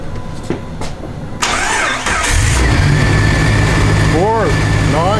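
A 4.0L inline-six engine is started off a battery jumper pack: a short starter crank catches into a loud, steady close idle, while people talk over it.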